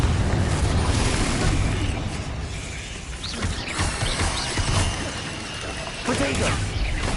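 A Confringo fire spell blasts in Hogwarts Legacy amid combat, with dense rumbling bursts and clattering impacts repeating over several seconds, loud and close, and a voice speaking over them.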